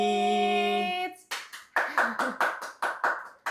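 Audience applause at a live event with about 5,000 ticketed attendees, a burst of clapping that follows a sustained musical tone and comes in several rhythmic swells, fairly close and moderately loud.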